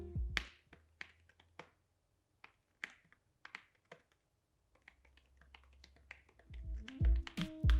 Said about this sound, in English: Another thing that people complain about when it comes to the Smart Keyboard Folio is the sound that it makes when typing.